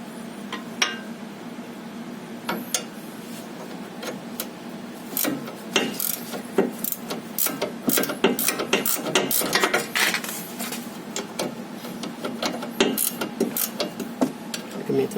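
Ratchet tightening a front stabilizer bolt underneath a 2011 Toyota Corolla Altis, a run of sharp clicking strokes in irregular bursts, fairly close and moderately loud, with faint background noise.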